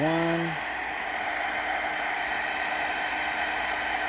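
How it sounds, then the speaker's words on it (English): A heat gun runs steadily while heating a pinion bearing, giving a constant close broadband hiss and blowing rush, with a brief tonal beep at the very start. "So I've got my heat gun going here"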